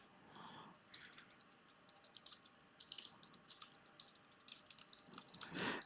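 Keys clatter in quick irregular bursts, a computer keyboard being typed on faintly in a quiet room, with no talking.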